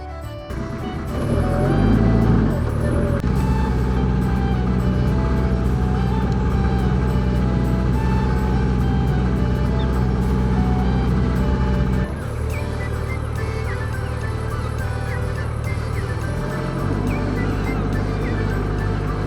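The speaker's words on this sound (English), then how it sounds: "A very short ferry ride across the estuary" A small ferry crossing Salcombe estuary, its engine a steady loud low drone throughout, shifting slightly in pitch partway through, with no clear talk over it.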